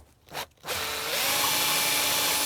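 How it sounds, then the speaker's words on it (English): A power drill bit bores into plastic to widen a pilot hole, starting after a couple of brief bursts, then a steady close whirring grind that holds loud to the end. "Now this drill bit probably is close."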